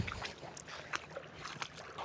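Water splashing in short, irregular bursts in a farm field in summer heat, fairly faint, with a steady wash of background noise and no voices.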